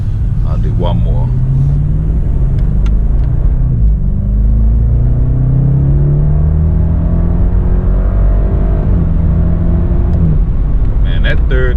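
A BMW 650i Gran Coupe turbo pulls hard through the gears, its engine rumbling and revving up with rising pitch, dropping at each shift and climbing again, loud and close from inside the car.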